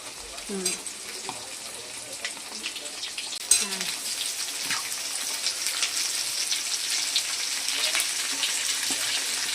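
Desi chicken pieces fry in hot oil with tomatoes and potatoes, giving a continuous close sizzle that grows denser over time, broken by a couple of spoon knocks and scrapes at the start.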